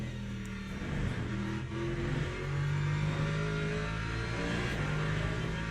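Race car engine in the Le Mans Ultimate racing game, a steady mid-pitched drone rising and falling through gear changes as it revs and accelerates, loud and continuous throughout with no talking.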